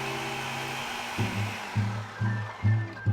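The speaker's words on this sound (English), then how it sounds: "And then I'm blending until mixed well." A blender mixes bagrir batter of semolina, flour and water in a steady close whir, then cuts into a series of short pulsed bursts.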